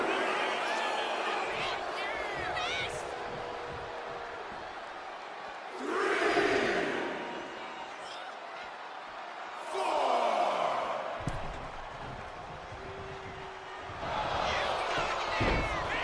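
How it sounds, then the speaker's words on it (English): A virtual wrestling arena crowd in WWE 2K25 swells in rising waves of cheering and roaring, each surge lasting a couple of seconds over a constant murmur, while a commentator talks throughout. "And Rocky is revving this crowd up."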